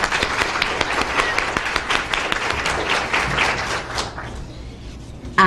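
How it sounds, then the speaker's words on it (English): A convention audience applauds steadily for sponsors at a broadcasting-industry event, dense clapping that tapers off toward the end. "Give them a big round of applause."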